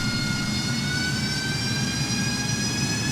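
An AV-8B Harrier II jet taxiing in a flight simulator gives a steady, loud turbine roar with a high whine layered on top, continuous and unbroken throughout.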